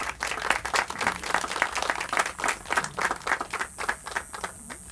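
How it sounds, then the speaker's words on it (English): Small audience at a Father Kino celebration giving a round of applause, sparse distinct claps in an uneven rhythm that thin out toward the end. "Give him a round of applause, please"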